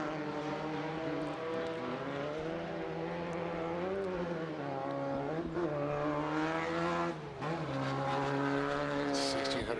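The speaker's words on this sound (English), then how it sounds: "Desert car goes by there." A desert off-road race car at a short course racing event roars past. Its engine drones loud and steady and the pitch bends as it goes by, with no break in the noise throughout.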